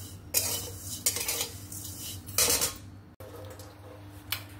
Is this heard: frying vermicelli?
yes